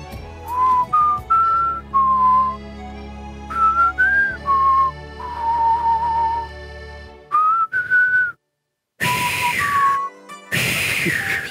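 A person whistles a halting tune in short, clear phrases with pauses and one brief silence, fairly close and loud with no talking.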